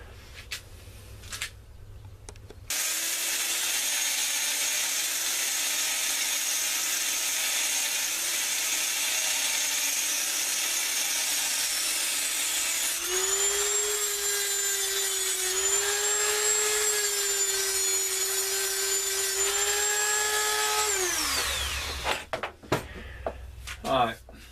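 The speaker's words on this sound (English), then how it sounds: "I'm going to put the bench grinder back up there, and I'm going to grind it off nice and smooth" Bench grinder smoothing a modified driveshaft part, a steady close whine with grinding contact that rises in pitch midway, then spins down and stops, with clunks at start and end.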